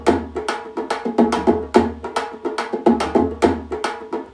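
Traditional tapa ties hand drums laid under a music production beat, a steady rhythmic pattern of close, punchy hits with a low sustained bass tone beneath, looping evenly throughout with no voices.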